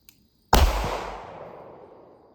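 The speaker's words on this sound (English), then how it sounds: "We're about to shoot the 9mm over with the Beretta 92" A single loud 9mm shot from a Beretta 92 pistol, fired outdoors during a hard cast ammunition test, cracking sharply after a brief quiet and leaving a long rolling echo that fades slowly.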